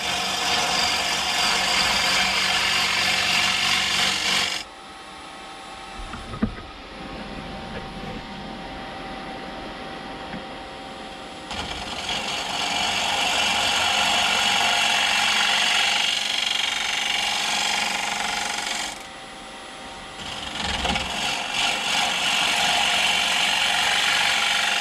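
A wood lathe turns a bowl from a faceplate while a gouge cuts from the center outward, giving a loud, steady broadband cutting hiss in long stretches, with short quieter gaps where the tool lifts off.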